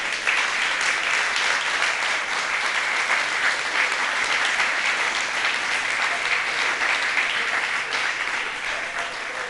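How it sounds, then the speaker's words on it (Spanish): A church congregation applauds during a Spanish-language Christian service, a thick and sustained wash of clapping from many hands that holds steady for nearly ten seconds with no voices over it. "¿Cuánto le pueden brindar un fuerte aplauso al Señor?"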